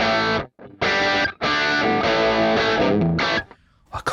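An electric guitar plays through a Valeton GP-5 amp preset, loud distorted chords in short bursts with abrupt gaps between them.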